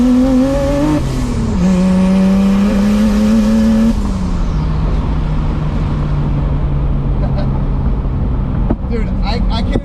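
A turbocharged BMW E30 with a stock M20B25 engine accelerating hard on the road, its loud revs climbing through the gears with a shift, then backing off to a steady drone.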